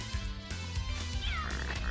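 Attack cat meows from the video game Castlevania: Rondo of Blood, a short synthesized cry sweeping through the middle of the clip over steady game music and effects.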